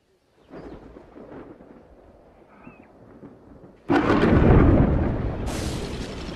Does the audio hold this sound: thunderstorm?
yes